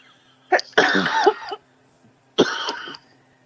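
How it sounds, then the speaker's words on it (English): Two bursts of harsh coughing, the first a quick cluster of coughs, the second a single cough after a short pause, close and fairly loud. "You hear me coughing all the time."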